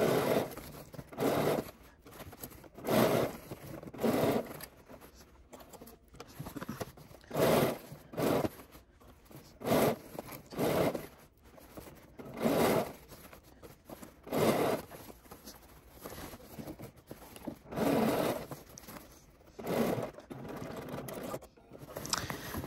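A sewing machine topstitches a pants hem slowly, running in short repeated bursts with pauses between them, a quiet mechanical whir that starts and stops again and again, heard alone and close.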